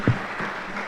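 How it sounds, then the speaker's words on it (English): Audience at a Jamaica youth tourism summit applauding themselves, a short faint burst of clapping that fades quickly into the room. "Please applaud yourselves."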